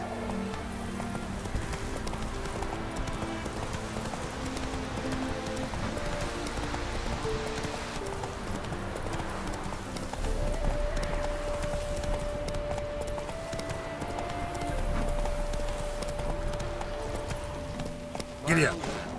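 A horse gallops in The Witcher 3 with steady, rhythmic hoofbeats throughout, a voice speaking over them and game ambience and music underneath.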